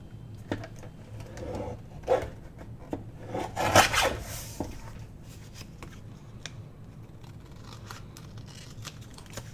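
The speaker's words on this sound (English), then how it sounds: "let's go ahead and cut this side a little straighter." Scissors cut along the side of a handmade wrap-around tag pouch, with a cluster of crisp snips and rasping paper sounds in the middle and quieter rustling before and after.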